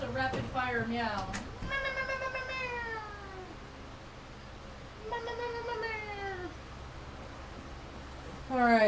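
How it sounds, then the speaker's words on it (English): Stanley the cat, said to have a bellyache, gives a quick run of short meows, then two long drawn-out meows with a pause between them. A final meow begins at the very end, loud and close. "That's a rapid fire meow."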